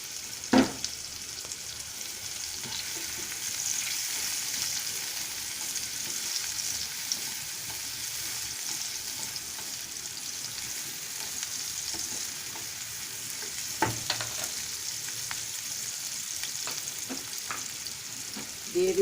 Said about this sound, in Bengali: তেলটা গরম হওয়ার পরে আমি পেঁয়াজ কুচি আর কাঁচামরিচ কুচি দিয়ে দিচ্ছি।